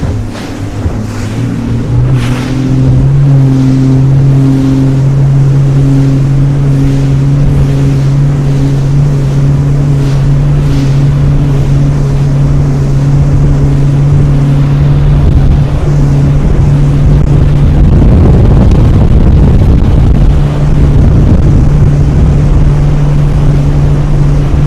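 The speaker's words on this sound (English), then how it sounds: "First wakeboard boat." A wakeboard boat's engine drones steadily with a low, loud hum on open water, mixed with rushing water and wind noise that grows rougher toward the end.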